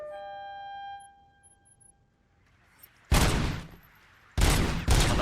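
Gunfire in RoboCop: Rogue City: after a sustained electronic tone and a quiet stretch, loud bursts of rapid automatic fire come in three close, heavy volleys.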